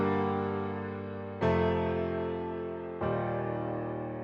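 Sustained inverted piano chords from the break of a dance track ring out alone, three chords each struck cleanly and left to decay slowly.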